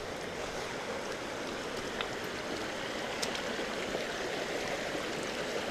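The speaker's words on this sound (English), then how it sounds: "Have one little stream crossing here to do." A small shallow stream runs steadily over rocks at a hiker's foot crossing, a constant close broadband rush of flowing water with no voices.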